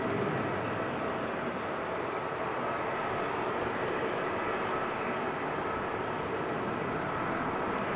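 An aircraft taxis at Amsterdam Schiphol Airport, giving a steady, unbroken engine roar and rumble that holds at the same level throughout, with no voices over it.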